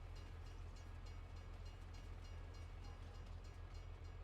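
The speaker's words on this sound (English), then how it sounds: "There goes the train." A train in Farming Simulator 22 rolls past with a steady low rumble and faint rhythmic rail clatter, holding an even level throughout with no speech.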